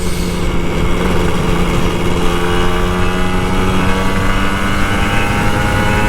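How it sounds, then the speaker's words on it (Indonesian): A Kawasaki Ninja RR motorcycle on an early-morning commute drones loudly and steadily under light throttle, its engine tone holding close and continuous with road rush and wind mixed in. "Cuman 15 menit bro kalau ngegas gini, full ngegas"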